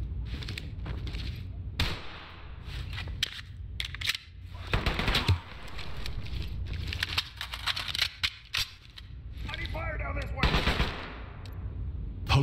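Sustained covering gunfire from SWAT rifles in the tactical shooter game Ready Or Not, rapid bursts and volleys repeating through the clip, loud and close, with brief radio-style callouts between shots.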